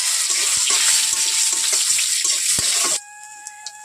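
Dry chilli, panch phoron, cumin and bay leaves frying in hot oil, crackling and spitting in bursts for about three seconds before the sizzle abruptly drops away to near quiet.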